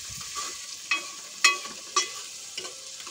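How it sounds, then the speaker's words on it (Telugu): Onions and tomatoes frying in a pan give a quiet, low sizzle, punctuated by a few sharp spatula clinks spaced roughly half a second apart. "టమాటాలు ఉల్లిపాయలు బాగా వేగించుకుందాం."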